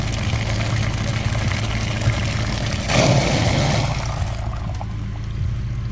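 Water runs in a steady, dense rush while a filter from a VW Passat B8 2.0 TDI cooling system is washed out, clogged with dirt and antifreeze. The flow swells briefly near the middle and continues without speech.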